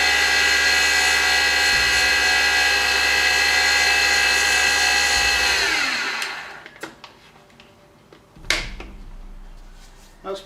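Small Sieg X2 CNC mill motor whines at high speed, around 4,500 RPM, steady and loud, then spins down and stops, followed by a few clicks and knocks in the workshop.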